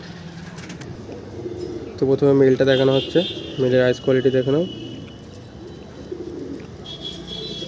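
Andhra Phulsira pigeons coo softly in a loft, a low steady murmur running beneath someone talking close by, which dominates the middle of the clip.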